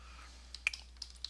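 Computer keyboard keys tapped for a ZBrush hotkey give a few faint, quick clicks over quiet room hum, with one slightly sharper press near the middle.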